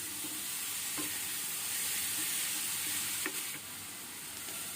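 Boiled banana flower mixed with spices in a pan sizzles steadily at low volume, with a few sharp scraping taps from stirring cutting through the soft frying hiss.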